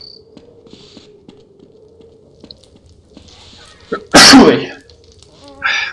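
A single loud, close sneeze bursts out about two-thirds through a Half-Life: They Hunger playthrough, preceded by faint clicking and a brief exclamation.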